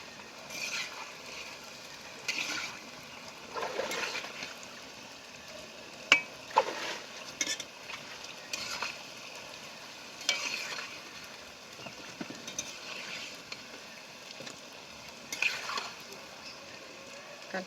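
Jackfruit and banana fritters sizzle and fry steadily in a full pan of hot oil, with occasional stirring clinks and scrapes breaking through the continuous bubbling.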